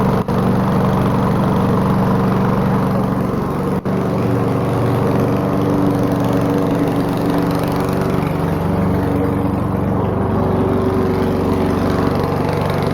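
An old, jury-rigged lawnmower engine with crankcase blow-by runs steadily and loudly at close range, a constant droning rumble with no break throughout.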